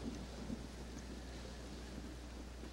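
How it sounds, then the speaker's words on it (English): A thunderstorm in the video game Red Dead Redemption Undead Nightmare, heard as a steady low rumble with rain hiss and a few faint thuds, continuous and even with no talking. "Well, it's just the storm, John."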